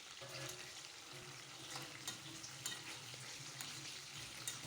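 Chapli kababs made from raw keema sizzle steadily in a pan of hot oil, a close, continuous crackling fry with faint popping and no talk.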